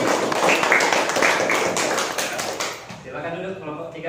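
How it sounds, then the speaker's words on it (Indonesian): Classroom applause for a student group, brisk clapping from a room of students for about three seconds, then fading into a teacher speaking. "kalian berikan tepuk tangan untuk kelompok D"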